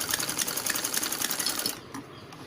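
Sewing machine stitching raw pleats on a belt blouse, a fast steady mechanical rattle for most of the moment, stopping abruptly near the end and leaving quiet room tone.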